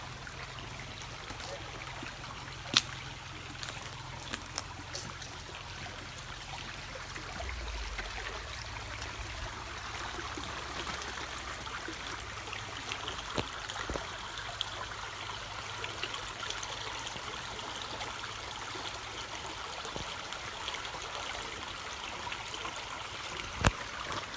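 A creek flows through a forest bottom in northwest Florida with a steady, gentle trickle and burble. It is quiet and even throughout, with a few faint clicks and footsteps.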